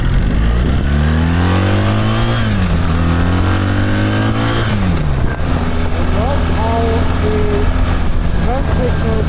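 A BMW R1300 GSA motorcycle engine on a test ride, revving up and dropping back through several gear changes, loud and close with wind noise, while someone talks over it.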